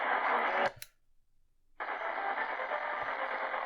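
A Radio Shack DX-375 shortwave receiver tuned to a weak daytime AM medium-wave station gives a steady hiss of static and noise, broken by a short near-silent gap before the hissing returns just as loud.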